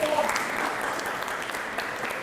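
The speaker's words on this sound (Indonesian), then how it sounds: "Kita berikan aplaus untuk kelompok 1." Classroom applause for a student discussion group, a brief burst of many hands clapping at moderate distance, steady throughout, with a few voices mixed in.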